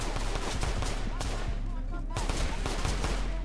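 Rapid gunfire rattles through a Roblox Da Bronx 2 roleplay game, bursts of shots layered over constant game noise and background chatter.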